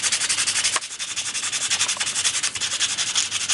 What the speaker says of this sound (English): So I want to just file this edge down with the 220 grit